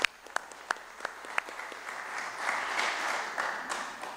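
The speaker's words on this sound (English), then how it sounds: "Somebody needs to give them a big round of applause." Scattered individual claps at a Board of Aldermen meeting that build into a fuller round of applause from the room, moderate in level and fairly close.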